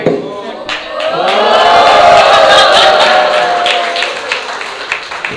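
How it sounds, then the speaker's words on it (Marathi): A crowd at a Marathi movie meet and greet breaks into loud, sustained applause and cheering, swelling for several seconds before tapering off. "जोरदार टाळ्या तिच्यासाठी घ्या"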